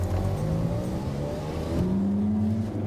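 A Ferrari 430 Scuderia with a sequential gearbox races a Ferrari 458 Italia, engines droning loud and steady with rising revs and a gear change midway, close and continuous with no talk.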